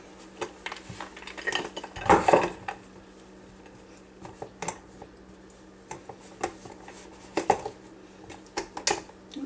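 A plate set on top of a pan of monkey bread and flipped over, giving a loud clatter of dish contact near the start, then scattered lighter clinks and taps of crockery.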